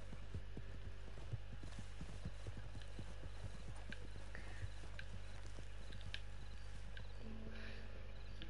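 Horse hooves clip-clop at a steady walking pace in Red Dead Redemption 2, faint and low under a constant droning hum.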